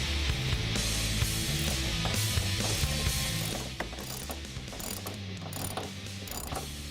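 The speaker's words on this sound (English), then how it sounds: "we'll tighten the bolts here to draw the 2 pieces together" A ratchet clicks steadily as bolts are tightened to pull a subframe bushing support into place on a 2015-2023 Ford Mustang, a close, rapid mechanical ticking that goes on for several seconds.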